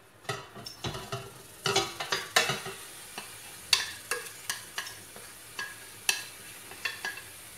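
Chicken fries in a heated cocotte pot, the sizzle broken by frequent scraping and clinking as the pieces are stirred, producing a close, irregular series of metallic knocks.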